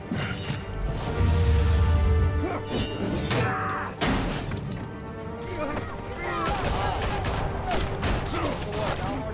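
Rapid gunfire and crashing impacts from the Batman Telltale Series game, loud and dense across the whole stretch, layered with a musical score and shouted voices.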